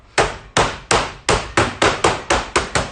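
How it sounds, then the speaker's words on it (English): Nine sharp hammer blows strike something hard in a steady rhythm, each a loud close crack with a short ringing decay. "your conversation is interrupted by bashing of ice"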